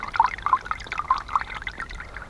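Soft, close water drips and trickles from moss squeezed like a sponge, falling in quick irregular succession, light patters over a quiet background.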